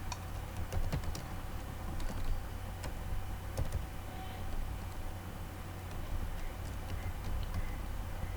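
Steady typing on a computer keyboard at a command line, entering a MySQL root password, with close, even key clicks running throughout over a low constant hum.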